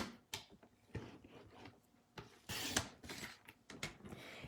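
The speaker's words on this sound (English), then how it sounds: "back to my cutting tool, and I think I'll do about 3/4 of an inch strip wide" A cutting tool slices a 3/4-inch strip of pattern material for a sturdy Easter basket, with close, sharp mechanical clicks and short scraping strokes separated by brief pauses.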